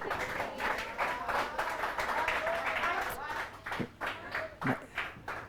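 Students in a physics lecture hall clap in a loose, scattered patter that tapers into a few separate claps, with excited voices and talk running over it.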